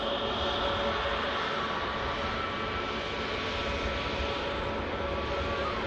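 A Turkish Airlines narrow-body Airbus A321neo at Manchester Airport, its engines a steady, loud broadband roar that holds level and unbroken for several seconds, with no talking.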